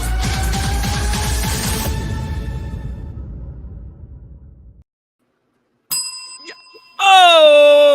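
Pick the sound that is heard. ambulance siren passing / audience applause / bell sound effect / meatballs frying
bell sound effect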